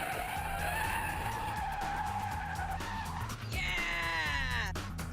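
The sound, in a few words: car skidding through a 180 spin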